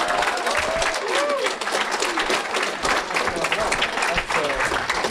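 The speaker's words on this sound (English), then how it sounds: "Let's have a round of applause for SaberSpark" An audience at a My Little Pony fan convention panel at MLP-MSP 2014 applauds a guest, a loud, sustained burst of clapping with voices mixed in.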